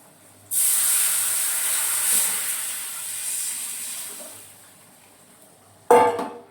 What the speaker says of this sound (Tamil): இப்போ நம்ம அரைச்சி வச்சதை ஊற்றிடுவோம்.